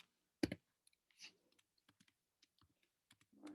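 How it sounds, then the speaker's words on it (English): Sparse, quiet keystrokes on a computer keyboard, a few sharp clicks spaced irregularly with one louder tap early and another burst at the end, no speech. "We're going to go back to typing."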